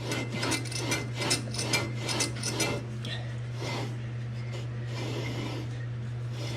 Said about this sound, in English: Lapping the flywheel.